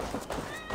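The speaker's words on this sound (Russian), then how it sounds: "Не мяукай, иди вон крыс лови." A short, faint cat meow from Assassin's Creed Valhalla sits under a bed of game ambience, one drawn-out mew lasting under a second.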